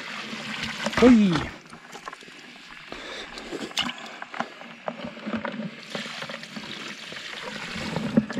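Water is tipped and poured out of a yabby trap container, heard as a splashing gush early on and then soft trickling and sloshing, with a brief exclamation from a man.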